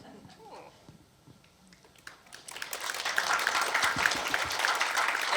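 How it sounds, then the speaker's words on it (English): An audience breaks into applause at a writing showcase, the clapping swelling after a quieter start and continuing steadily, close and fairly loud. "Clapping for me."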